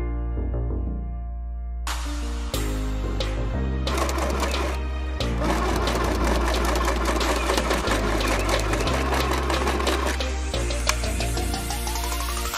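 A sewing machine straight-stitches silk satin fabric for a handbag, running in close, even whirring bursts separated by short stops, loud and without talking.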